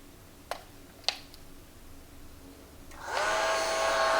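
A couple of sharp clicks, then a small cordless UpPro baby hair and body dryer whirs on with a steady, high-pitched motor hum and airy rush, close by.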